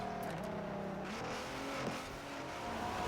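A Ford GT70 engine revs in Forza Horizon 4 racing, rising and dropping through gear changes at a steady mid loudness, with a brief tire sound amid the drone.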